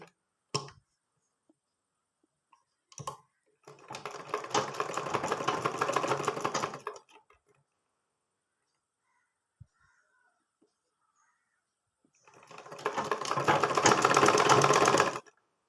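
A sewing machine stitches fabric in two runs, a steady mid-loud mechanical whir of about three seconds, then a pause with a few small clicks, then a second run of similar length near the end.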